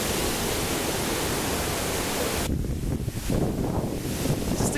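Wind gusts buffet the microphone outdoors at the Jatiluwih rice terraces in Bali, a loud continuous rumbling roar that drops to a steadier, lighter rush midway, with no voices.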